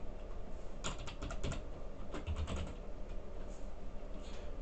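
Computer keyboard typing in bursts of quick key clicks, a short flurry, a pause, then another run of keystrokes, close and fairly quiet over a steady background hum.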